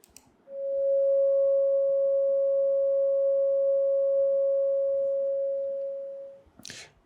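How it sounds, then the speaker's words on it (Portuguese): A pure sine wave tone, a single steady whistle-like pitch sustained for about six seconds, clean and moderately loud, fading slightly before stopping, followed by a brief noisy rustle. "Vamos escutar primeiro a onda senoidal."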